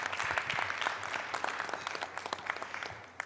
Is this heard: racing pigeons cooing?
no